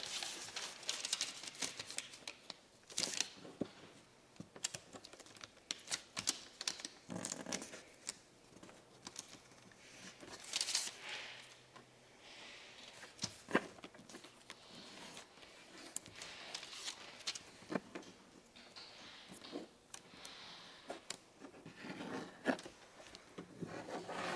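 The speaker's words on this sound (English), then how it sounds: "let's rotate and fold it this way." Origami paper being folded and creased makes soft close rustles, rubs and crisp crinkles in an irregular pattern, quiet and steady throughout with no talk.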